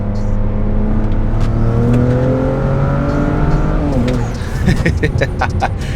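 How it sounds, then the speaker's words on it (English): A BMW 335i pulls hard in third gear, the engine note climbing steadily in pitch and loudness for several seconds before a shift, heard close from inside or near the car with some speech. "Here's a small third gear pull."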